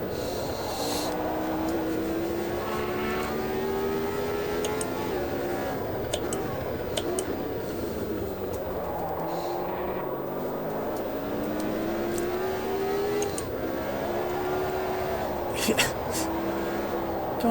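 A race car engine in Automobilista 2 drones steadily throughout, its pitch rising and falling with gear changes and throttle, continuous and close without a break.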